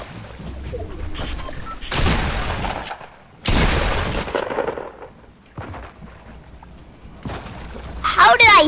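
SMG gunfire in the Fortnite video game, bursts of rapid loud shots and blasts in several clusters, with a player talking over the action.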